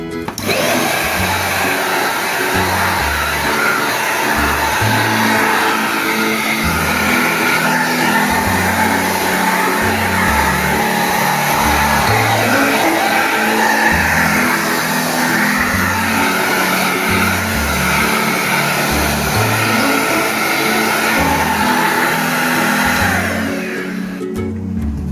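A cheap 2-in-1 vacuum cleaner with a brush nozzle attached runs continuously, a loud, close motor whine with rhythmic pulsing thumps as the brush is pushed back and forth.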